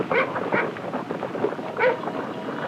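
A three-legged reindeer herding dog working a herd in Sámi country gives a few short yips and barks, spaced about a second apart, over a steady rustling of herd and outdoor noise.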